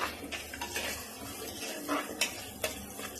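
Onions sauté in a pot for prawn curry, giving a soft sizzle under light metallic scraping and clinks of a stirring spoon. The sound is faint and close, with no one speaking.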